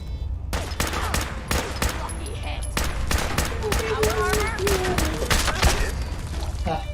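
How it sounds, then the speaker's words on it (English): Rapid bursts of short combat rifle fire crack repeatedly in a Fallout video game, loud and close, with a speaking voice underneath the shots. "let me use my new combat rifle"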